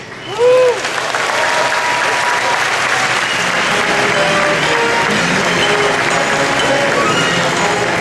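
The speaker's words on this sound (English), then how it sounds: "Nice round of applause for the lovely and talented Abby Cornish." Loud, dense crowd applause fills a large San Diego Comic-Con 2013 RoboCop panel hall, steady and continuous throughout, with a brief vocal cheer near the start.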